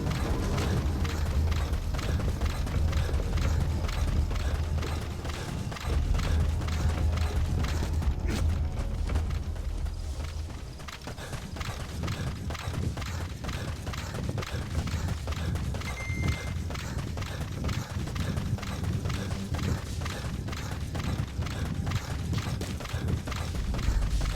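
Horse galloping in Metal Gear Solid V: The Phantom Pain, a steady mechanical clatter of hooves running continuously under game music and ambience, with no clear gaps.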